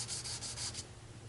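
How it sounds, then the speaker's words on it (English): Wet sandpaper is rubbed by hand across aluminum in a few quick, soft back-and-forth strokes, faint and close. "But I sand it in an X pattern."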